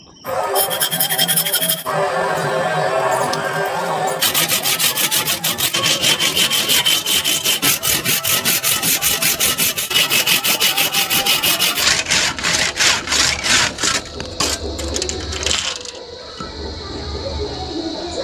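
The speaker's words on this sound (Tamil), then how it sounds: "இதில் பார்த்தீங்கன்னா கரெக்டான அளவு வச்சு நான் பாயை வந்து நான் கட் பண்ணி எடுத்துக்கிறேன்." Hand saw cutting a wooden plank to size for a fishing slingshot, long continuous back-and-forth rasping strokes, loud and close, slowing into separate strokes near the end.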